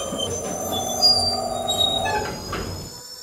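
Train rolling past on the train level of a Roblox elevator game, wheels squealing in a steady metallic screech over rumbling clatter, fairly loud and close for about three seconds before easing off.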